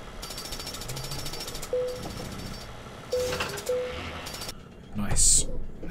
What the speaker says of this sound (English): Are they really drilling at 6 o'clock in the morning?